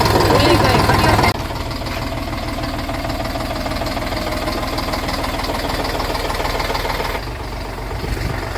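A tractor engine runs steadily at idle throughout with a knocking mechanical rumble, louder at the start before settling, while people talk over it.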